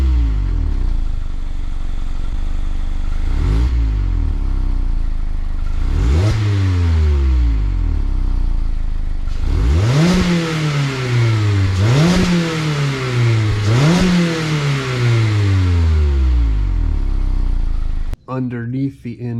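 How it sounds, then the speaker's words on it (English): A Mazda ND Miata engine idles, then revs repeatedly in rising and falling surges through its stock exhaust, loud and close, cutting off abruptly at the end. "now we're gonna see what the original exhaust sounds like"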